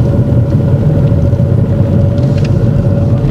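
A learner driver's car engine runs during a driving lesson, giving a loud, steady low rumble that holds throughout with no voices over it.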